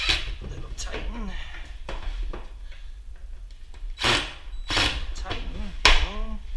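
Screws on a door handle of old built-in cabinets are tightened with a hand tool, giving sharp scattered clicks and knocks of metal against wood between bursts of talking.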